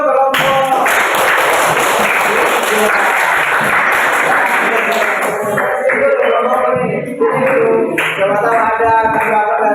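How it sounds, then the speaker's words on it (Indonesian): A classroom group gets a burst of dense, sustained clapping that fills the room at close range for most of the stretch, with voices heard over it as it starts to thin toward the end. "Ya, tepuk tangan dulu untuk kelompok"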